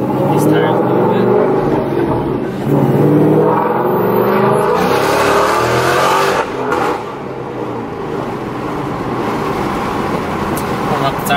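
A 2016 Mustang GT fitted with a Whipple supercharger drives on the road, its engine roaring and rising in pitch under acceleration with road noise throughout and a brief drop in level partway through.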